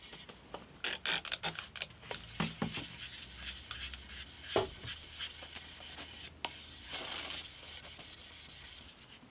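Sandpaper of 1000 grit rubs over a thin superglue (CA glue) finish on a small wooden coffee table, giving close, repeated scratchy strokes in uneven bursts, with brief pauses between passes.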